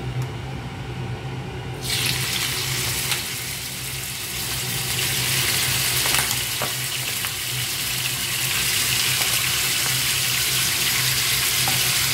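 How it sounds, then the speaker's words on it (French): Water runs from a kitchen tap as a spoon is rinsed, a steady hiss that swells after a couple of seconds, with a pan of butter sizzling on the stove underneath throughout. "je vais juste rincer ma cuillère"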